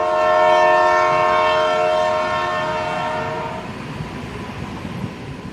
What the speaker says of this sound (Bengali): ট্রেনটা চলতে আরম্ভ করেছিল।